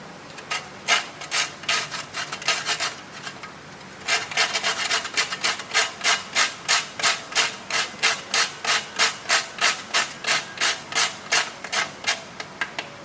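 Whole fresh nutmeg rasped against a grater in quick, rhythmic strokes, close and crisp. The scraping starts in short uneven bursts, then settles into a steady run of even passes.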